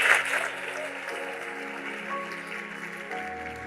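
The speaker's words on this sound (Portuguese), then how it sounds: "Você pode aplaudir aí o nome de Jesus" Church congregation applauding at a Portuguese-language sermon, a dense wash of clapping strongest at the start and then sustained at a steady level, with a low musical tone underneath.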